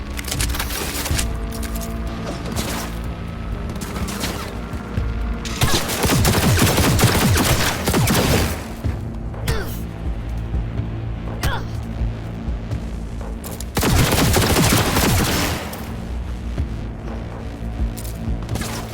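Gunfire in Cyberpunk 2077, with bursts of rapid shots and louder volleys around the middle and again near the end, over a constant rumbling game background; shouted commands come in briefly.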